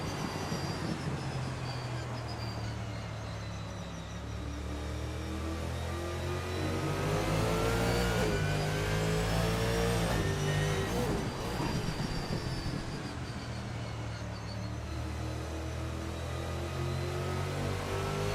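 A 1989 Chevrolet Camaro Z28 IMSA GTO race car in a sim racing game runs the Daytona Road Course, its engine droning loud and steady with rising and falling revs as it drives through corners, alone without talk.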